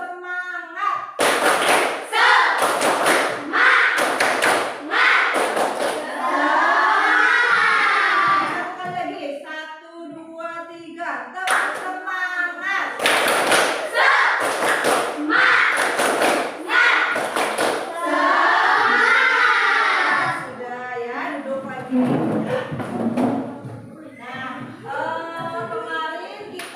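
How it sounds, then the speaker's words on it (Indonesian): A school class performs a rhythmic spirit clap, with sharp group hand claps in a set pattern and chanted voices. The routine runs twice in a row and stays loud and close throughout. "Tepuk semangat, bisa ibu yang pimpin atau kalian sendiri?"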